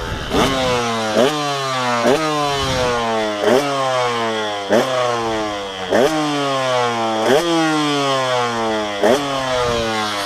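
KTM 125 two-stroke motocross bike warming up, its engine held at a steady loud buzzing idle with brief repeated blips of the throttle every second or so, close by and alone.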